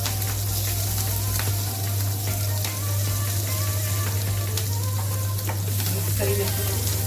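Garlic and chillies sizzle in hot oil with asafoetida and turmeric for soya chunk rice, a dense, even crackle with occasional stirring clicks over a low steady hum.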